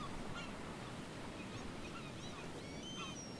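Seabirds call faintly in the survival video game Stranded Deep, thin chirps and honks rising over a constant wash of ocean surf and wind.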